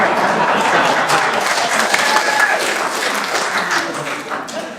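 A crowd at a county zoning appeals meeting gives sustained, moderately loud applause that stays even throughout and tapers slightly at the end.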